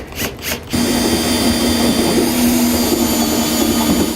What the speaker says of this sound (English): drill our hole out the rest of the way.